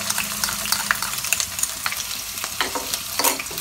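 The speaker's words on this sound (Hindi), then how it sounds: "ये देखें, अच्छी तरह से फ्राई करेंगे।" Loud, close sizzling of garlic-ginger paste frying in hot oil, with scraping stirs and crackles throughout.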